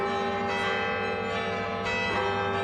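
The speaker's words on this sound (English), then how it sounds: "The bells at the University of Notre Dame's Basilica of the Sacred Heart" Church bells of the Basilica of the Sacred Heart at the University of Notre Dame ring continuously, their resonant overlapping tones sustaining without pause.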